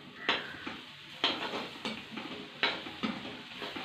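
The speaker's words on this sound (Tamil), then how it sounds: "கொஞ்சம் கொஞ்சமாக சேர்த்து கிளறி விட்டுட்டே இருங்க" A utensil scrapes and knocks against a pan as chopped chapati is stirred into egg, a few sharp clinks at irregular intervals over a soft background sizzle, with no talk.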